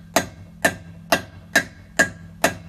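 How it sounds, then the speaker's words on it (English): A hammer strikes a socket being driven onto a car wheel lock nut, six sharp metallic blows at an even, unhurried pace, close and clear with nothing else heard. "So now that I got it in place, you want to give it a good hammering."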